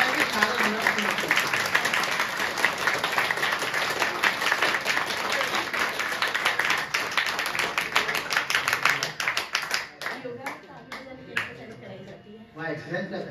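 Many people clapping hands together in a group exercise, a dense, steady patter of applause for about ten seconds that thins into scattered claps, with voices faint underneath.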